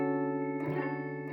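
A strummed guitar major seventh chord rings briefly with a bright, effected tone and a slight shimmer as it sustains.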